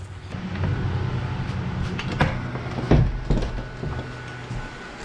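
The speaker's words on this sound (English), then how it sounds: "let me shut the other door here" A shed door is slid and pushed shut with a few knocks and a firm thud near the middle, close by, with no talking.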